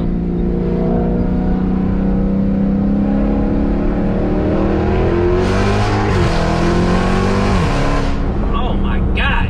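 A 2020 Dodge Charger Hellcat fitted with a Corsa Extreme catback exhaust and Nitto NT05 tires accelerates hard, its loud, steady engine roar rising in pitch and swelling near the end while people talk over it.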